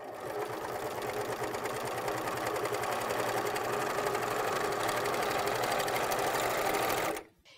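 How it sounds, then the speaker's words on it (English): American Home serger running fabric through while trimming the edge, a steady fast whirring hum that stays close and even for about seven seconds before stopping abruptly. "I'm going to run a piece of fabric through the machine right now, making sure that my presser foot is down."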